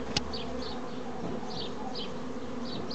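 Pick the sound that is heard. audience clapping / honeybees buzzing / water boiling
honeybees buzzing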